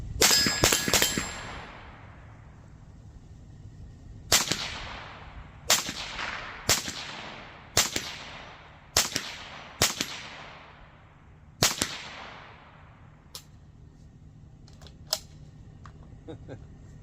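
A Savage A17 rifle in .17 HM2 fires single shots at steel swinger and spinner targets, each a sharp crack with a ringing metallic ping, about ten spaced shots fading into fainter distant hits toward the end.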